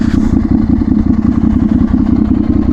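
A motorcycle engine runs steadily and loud while being ridden, a constant close rumble with a rattling edge throughout and no voices.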